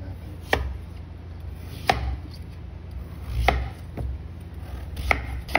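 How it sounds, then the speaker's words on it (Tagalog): A kitchen knife cutting peeled vegetables on a board, four sharp, separate chops spaced about a second apart over a low steady room hum, close and fairly quiet, with no voices. "Yan, nabalatan na natin, hiwain na natin."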